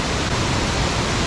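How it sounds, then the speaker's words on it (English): Tad Lo waterfall in Laos, a dense, continuous roar of falling water, loud and even throughout with no other sounds standing out. "Here near the Tad Low waterfalls on the second day of the Paxi loop, motorcycle loop."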